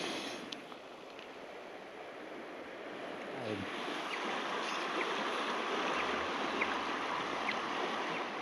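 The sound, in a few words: tidal river water flowing fast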